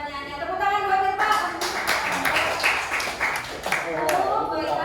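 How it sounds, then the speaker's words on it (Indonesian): A classroom of students claps for a classmate's question, with a brief burst of hand claps mixed with voices and tonal speech-like sounds, fairly close and lively. "Tepuk tangan buat Tirta."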